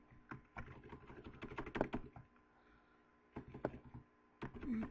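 A phone charger is handled and plugged in, giving a run of close plastic clicks, taps and rattles, with a pause and then more fumbling and a final sharper click.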